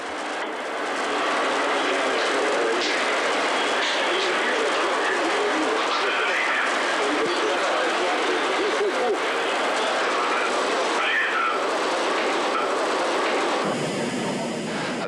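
The Energia rocket lifts off at dawn with a continuous loud, broad roar that holds steady and fades slightly near the end.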